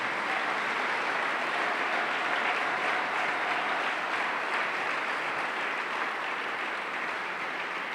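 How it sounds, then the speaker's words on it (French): A church congregation applauds steadily and densely for the whole stretch, a continuous wash of many hands clapping at moderate loudness with no speech over it. "J'aimerais qu'on puisse dire merci à Dieu en l'acclamant pour ces hommes de Dieu que Dieu nous a donnés"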